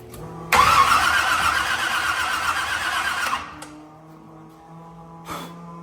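A burnout truck engine catches and roars to life after fuel is poured into the carburetor, running loud and rough for about three seconds before cutting back to a lower idle, with a brief later blip.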